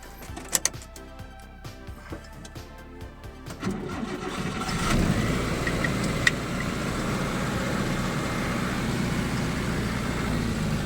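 A car engine starts up after a few clicks and door or handling knocks, then settles into a steady idle and low running rumble, close by, with no talk, as it sets off to deliver a load of scrap metal.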